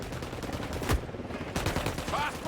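Gunfire in the video game Ghost Recon Wildlands, a sharp burst near one second followed by a denser volley of shots from about 1.5 seconds, loud over a busy game background.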